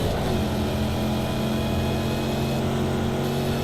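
A race car engine in a video game drones steadily at high revs throughout, a loud continuous buzzing whine with no breaks.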